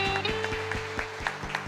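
A congregation claps steadily for the Lord at a church service, rhythmic hand claps sounding over a sustained organ or keyboard chord.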